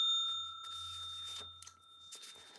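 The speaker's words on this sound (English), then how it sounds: "Oh, Jerry, you need the bell." A small bell rings with sustained tones, struck a few times in quick succession indoors, fairly faint against a quiet background.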